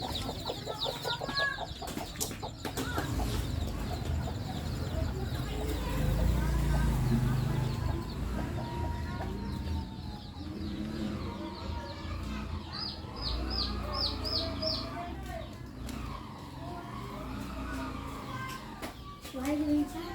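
Chickens cluck and peep around a house, soft repeated calls near and far, while children and adults talk over them.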